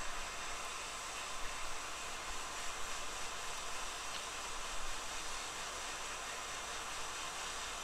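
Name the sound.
hot air rework tool heating PS4 board solder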